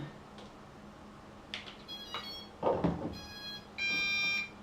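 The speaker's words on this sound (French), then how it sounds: "votre télécommande va biper" An MJX Bugs 6 drone remote control gives a few short beeps, then a longer sustained tone, with faint clicks and handling noise between them.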